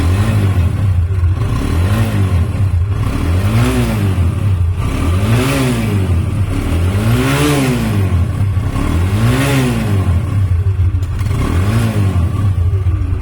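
A TVS Apache RTR 160cc motorcycle engine starts and runs loud and close, its idle rising and falling in repeated revs, with no one talking.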